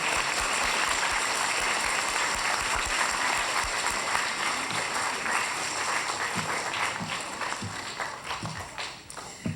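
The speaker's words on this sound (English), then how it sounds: "let's give them a round of applause again" Audience applause fills a middle school Veterans Day program, a dense, steady wash of many hands clapping close by that thins slightly toward the end.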